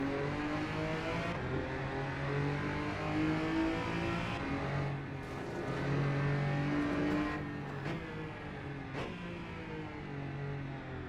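Engine of a modded Porsche Cayman GT4 race car in a racing video game, a steady droning roar that rises and falls with revving throughout, with brief gear-change dips.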